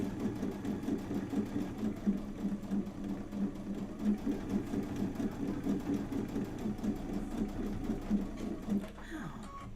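A sewing machine runs steadily while top stitching a zippy bag panel, its rapid, even needle rhythm continuous and close, ending with a brief stop.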